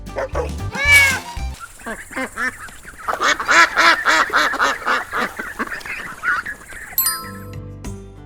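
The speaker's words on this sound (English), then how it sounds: "It's a duck." A duck quacks in a rapid run of harsh, nasal calls among farm animal sounds, loud and close, following a brief cat-like call at the start.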